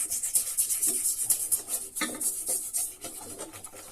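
A rust-treated metal part being cleaned after long immersion, heard as continuous close rubbing and scraping strokes with a gritty, hissy texture and no talk.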